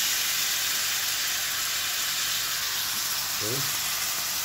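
Marinated meat frying in a hot pan for pancit canton guisado, a steady broadband sizzle running throughout with a brief stirring clatter near the end and a short spoken word early on.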